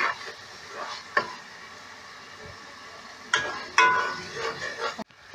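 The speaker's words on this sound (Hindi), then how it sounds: "अब आवाज़ चेक करें मैंने हाई कर दिया है और दाल को मसाले के साथ भूनना है" Dal roasting with spices in a pan over a high flame, a moderate sizzle with occasional sharp stirring clanks and scrapes of metal against the pan.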